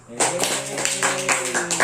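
An elementary school class claps together after a lesson on zakat. The clapping is brisk and rhythmic, close and loud, with children's voices chanting along over the beat.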